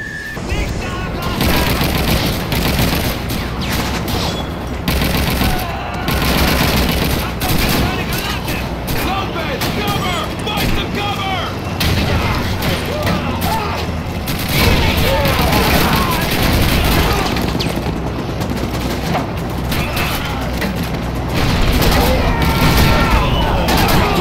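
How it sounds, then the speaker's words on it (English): Rapid bursts of gunfire crack from behind in the Call of Duty 2 game, dense fusillades and machine-gun rattles running nearly nonstop and loud for the whole stretch, with excited voices talking over the shooting. "Oh, we're getting shot from behind."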